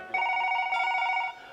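A telephone rings in one short, loud burst of bright warbling tone lasting just over a second, with no talking.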